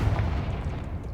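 A Confringo fire spell blast in Hogwarts Legacy lands as a loud, deep booming burst that rolls on as a dense rumble for about a second.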